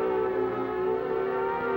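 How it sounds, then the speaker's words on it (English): A steady, continuous civil defense siren tone with rich harmonics, loud and unbroken throughout, with no voices present. "the alert will be a warbling siren blast lasting 3 minutes"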